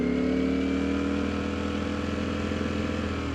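A 2019 Ducati V4S motorcycle engine revving and holding a steady, loud high-pitched note close by, with a slight dip in pitch partway through and no talking.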